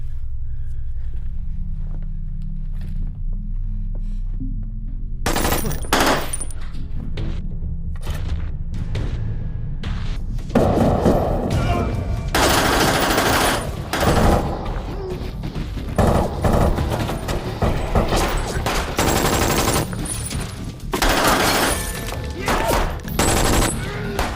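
Dense bursts of machine gun fire crackle in rapid volleys after a quieter low rumble, loud and close, with crashes and impacts mixed in.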